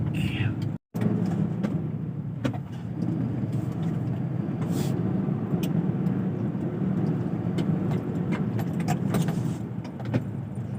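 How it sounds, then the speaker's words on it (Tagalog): Road traffic heard from inside a petroleum delivery truck driving near Southwoods, Biñan, Laguna: a steady low engine and road rumble with scattered rattles and clicks, continuous and fairly loud throughout. "traffic"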